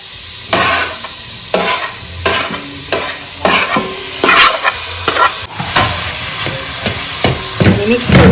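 Crisp fried squid rings are tossed into hot frying masala for squid fry, with a loud sizzle and a series of rhythmic stirring scrapes repeating about once a second, close up and with no talk.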